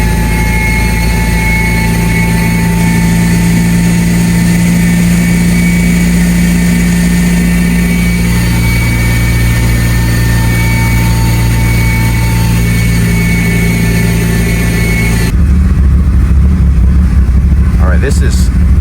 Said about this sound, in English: Now look at the quality of that idle.